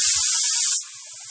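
Hot milk poured into roasted semolina (rava) in a pan while making modak, a loud sharp sizzling hiss that cuts off after about a second, leaving faint bubbling.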